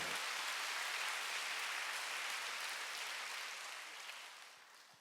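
A church congregation applauds during a Sunday worship service, a broad hissing wash of many clapping hands, loud at first and fading gently toward the end.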